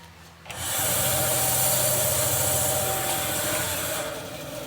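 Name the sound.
bandsaw running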